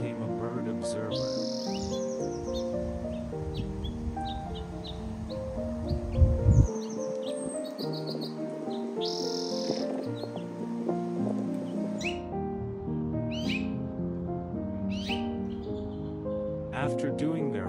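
Small birds chirp and chatter near their nests in quick bright bursts over a steady tonal musical background, with repeated twittering calls scattered throughout.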